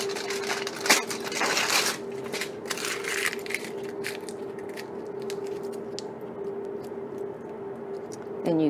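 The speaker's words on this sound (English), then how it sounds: "you can take the foil and like crumple it up in a ball" Aluminium foil crumpled into a ball by hand, loud crinkling bursts up close in the first few seconds, then quieter intermittent crackles over a steady background hum.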